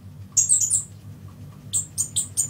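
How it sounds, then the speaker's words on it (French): Free-flying birds inside a home with an indoor green wall give two bursts of sharp, high chirps and squawks. Each burst is a quick cluster of calls, separated by a quiet pause, with a low room hum underneath and no voices. "les oiseaux sont ici en liberté"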